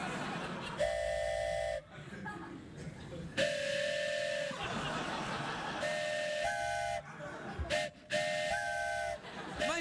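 Toy noise-maker imitating a steam train whistle, several blasts of mournful two-tone whistling in repeated bursts, with chugging sounds and studio voices between them.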